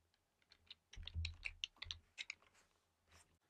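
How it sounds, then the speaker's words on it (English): Typing on a computer keyboard while writing SwiftUI animation code: a quiet burst of quick, irregular key clicks that starts after about a second and thins out toward the end, close up, with no one talking. "I'll just type out and then break it down."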